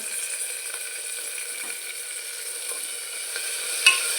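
Onion frying in a pan with a little salt while it turns golden, tomato about to go in: a steady, fairly quiet sizzle with faint stirring scrapes and a small clink near the end, no voices.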